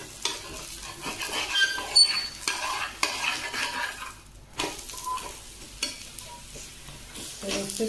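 Coriander thalipeeth crisping in oil on a hot pan, with a steady close sizzle broken by scraping and stirring clatter from a spatula.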